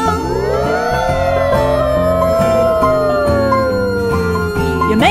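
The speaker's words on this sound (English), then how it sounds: "So make a siren sound." A wailing siren sweeps up and down, loud and close, over a rhythmic musical backing.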